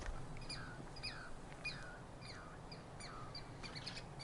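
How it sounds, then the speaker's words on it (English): A Douglas squirrel, also called a chickaree, gives a run of sharp repeated chirps at an even rhythm in a quiet forest, moderately distant over a soft background hush. "So those little chirps you're hearing, they're not birds. They're a kind of squirrel called a chicory, or a Douglas squirrel"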